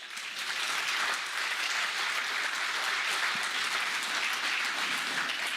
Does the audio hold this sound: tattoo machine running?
no